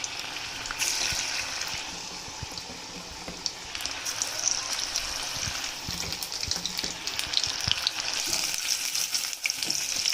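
Fish pieces coated in egg batter deep frying in a kadhai of hot oil, a continuous bubbling sizzle with occasional crackles and stirring clatter, fairly close and with no talk.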